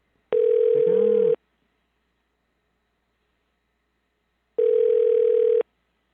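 A telephone rings on an unanswered call, two long buzzing tones about a second each separated by several seconds of silence, loud and clear with nothing else heard.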